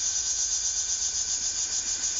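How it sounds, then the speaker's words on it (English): A loud, continuous sizzling hiss, like something burning and giving off acrid green smoke, holds steady and close throughout without any speech. "a horrifying, sizzling sound filled the air, accompanied by a plume of acrid, green smoke"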